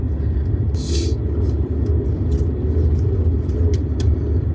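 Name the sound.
Suzuki Jimny skidding on an icy dirt road downhill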